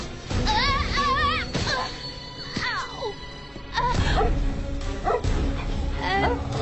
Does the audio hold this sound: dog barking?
yes